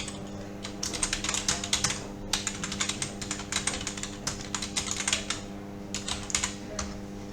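Code for a WordPress plugin is typed on a computer keyboard in quick, uneven bursts of crisp key clicks that carry on for several seconds, close up, with no talk.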